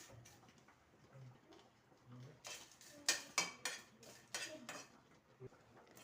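A metal spoon clinks and scrapes against a pan while red chillies are roasted and stirred, irregular taps and scrapes rising in a cluster of sharper knocks before easing off in a quiet kitchen.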